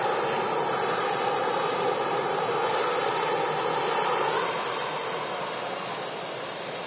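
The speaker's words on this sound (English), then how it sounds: "There we go, the A380 taxiing in." An Airbus A380 jet taxis in at Manchester Airport, a broad steady jet-engine roar with no voices that holds near, then slowly fades toward the end.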